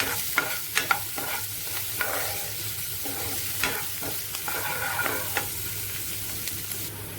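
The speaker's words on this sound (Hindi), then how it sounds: "और फिर डाल दिया मैंने यहाँ पर 1 मीडियम साइज का प्याज बारीक कटा हुआ।" A medium onion, finely chopped, fries in a pan for baingan ka saalan, with a constant crackling sizzle. Repeated scraping strokes from stirring cut through it at close range, with no voices.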